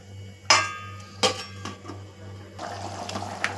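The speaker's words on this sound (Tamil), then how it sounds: "இப்போ மூடி போட்டு ஒரு 10 நிமிஷம் நல்லா வேக வைப்போம்" A cooking pot gets its lid put on, with a few sharp metallic clanks and clatters over a low steady hum, followed by a softer clinking rattle.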